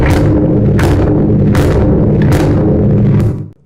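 A 22-inch bass drum tuned for a big, flat, fat rock tone is struck five times at a steady pace, each deep boom ringing out loud and close with no talking.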